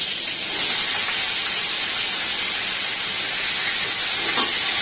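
Tomatoes go into a hot pan just after green chilies, giving a strong, even hiss of sizzling that stays loud and continuous throughout, with no speech.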